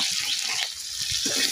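Dried puti fish sizzles in hot mustard oil in a pan, a close, steady crackling hiss lasting a moment, with no talking.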